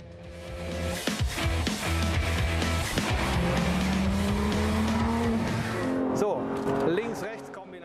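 A Porsche GT3 RS sports car with a PDK dual-clutch gearbox is driven hard through S-curves at high speed. The engine roars loudly and continuously with shifts, rising revs and tire squeal, and a voice talks underneath.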